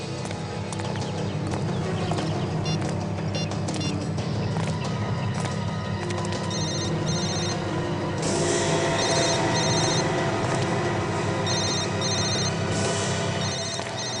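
A mobile phone ringtone repeats in short electronic bursts over loud, steady background noise and clattering.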